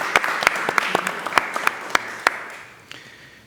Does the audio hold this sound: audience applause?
yes